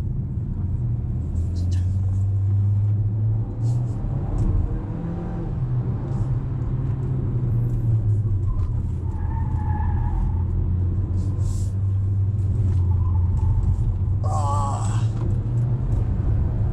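A 2024 GAC Empow car drives along with a steady low engine and road rumble, with people talking inside the cabin over it.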